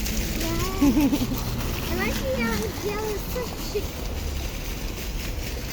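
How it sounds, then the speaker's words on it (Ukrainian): A public fountain in Spain splashes steadily as hands are dipped into it, a constant watery wash beneath a child's and an adult's voices talking nearby. "Чи ми прийшли просто руки помочити?"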